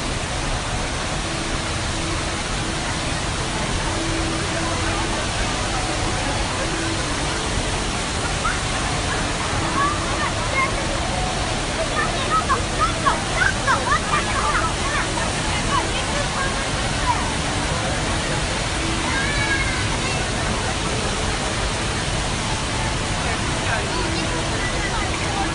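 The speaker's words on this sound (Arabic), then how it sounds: "وفي أيضا أكبر شلال في العالم تحت سقف المطارات" Broad, steady rush of falling water from the huge indoor waterfall at the Jewel complex of Singapore Changi Airport, a continuous roar with faint crowd murmur underneath throughout.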